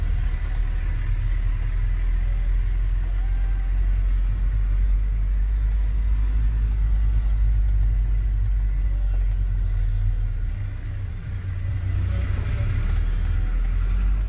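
Heavy dump trucks rumble past at a reservoir dredging site in Jakarta, a steady loud low engine drone filling the whole stretch with a brief dip near the end, no talk.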